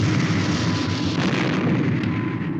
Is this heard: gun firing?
yes